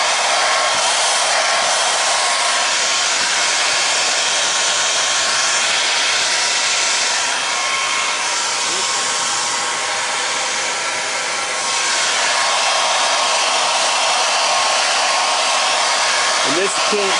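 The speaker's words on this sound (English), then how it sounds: "this is my first attempt at doing this airbrushing, so it may not be perfect" An airbrush sprays paint onto a fishing lure with a loud, continuous close-up hiss that eases briefly in the middle before resuming, with no voices.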